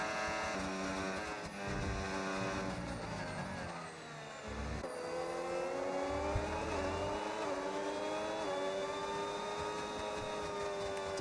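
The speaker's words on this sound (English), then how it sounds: "You can hear the revs just behind him." F1 racing video game cars, high whining engine revs rising and falling in pitch as several cars run close together, steady and fairly quiet with no voices.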